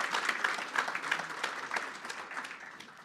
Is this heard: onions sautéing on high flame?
no